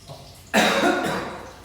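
A single sharp, harsh cough bursts out close by after a quiet moment while cooking spicy food, trailing off into a raspy exhale.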